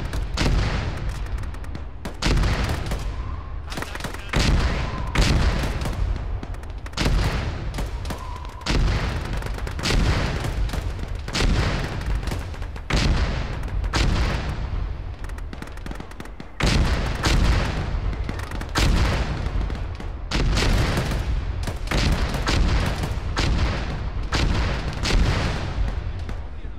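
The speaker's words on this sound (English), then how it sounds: "assuming those mortars are enemy, but they keep landing in the..." Mortar shells landing in a military combat video game, heavy booming impacts repeating every few seconds, loud and close, with dense sustained rumble and crackle between hits.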